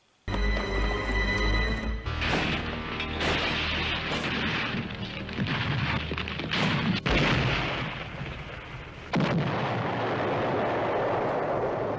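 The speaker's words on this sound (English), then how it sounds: "the car still ends up going over the side of the cliff and it explodes" A loud cinematic blast erupts as a car explodes after going over a cliff in a film, followed by rumbling debris and a second heavy boom, with dense roaring noise throughout and no voices.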